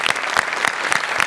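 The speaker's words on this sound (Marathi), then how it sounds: "एकदा आपल्या जुजबीसाठी जोरदार टाळ्या" An audience at a Marathi stage show bursts into brief, dense, lively applause, many hands clapping together close by.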